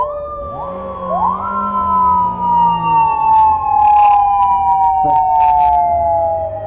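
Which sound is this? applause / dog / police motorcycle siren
police motorcycle siren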